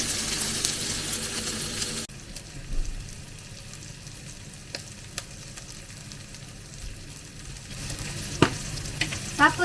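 Sliced ampalaya (bitter gourd) sautéed in a pan hisses with loud, steady frying at first, then settles into softer sizzling with scattered stirring scrapes before the sizzle swells again near the end.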